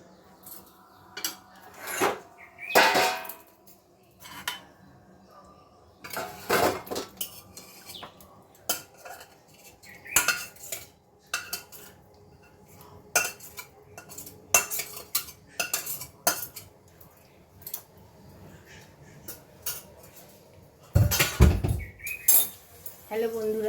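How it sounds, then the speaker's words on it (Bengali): Cooked kadai chicken is scraped from a pan into a dish, with intermittent metal clinks and scraping strokes of a spoon against cookware, separated by quiet pauses. "এবার আমি আমার একটা পাত্রে ঢেলে দিচ্ছি"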